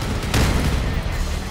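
A ZIS-34 tank gun firing in a vehicle combat video game, built for maximum rate of fire: a sharp, loud blast near the start over a dense, continuous roar of battle noise that fills the whole moment.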